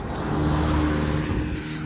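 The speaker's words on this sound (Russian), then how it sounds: "Ой, тут такие эти машины быстрее ездят." Fast cars swish past runners on a road, a loud, rushing drive-by with engine tone swelling and fading over about two seconds.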